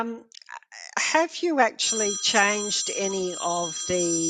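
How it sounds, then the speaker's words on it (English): A telephone rings with repeated electronic tones during an indoor conversation, its bright ringing overlapping a person speaking nearby. "excuse me, that was my phone"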